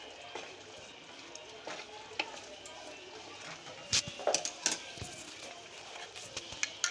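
A spoon scrapes and clinks against a pot as coriander powder is stirred into green chicken, with irregular soft knocks and a few sharper taps. A voice talks over the cooking.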